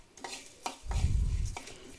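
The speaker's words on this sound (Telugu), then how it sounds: "లేదు అనుకుంటే కొంచెం ఇలా కలుపుకుంటే సరిపోతుంది" A spatula stirs roasted rasam powder spices in a pan, making a few scraping clinks and then a soft, low, rumbling churn of dry spices in the middle. It sounds close, with no talking.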